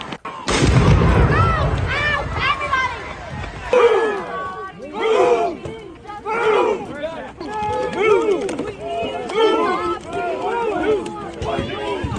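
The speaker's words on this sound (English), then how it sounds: "Whoa, we just had an explosion." A street protest clash with a sudden loud explosion boom early on, followed by a crowd shouting and running and continuous close voices throughout.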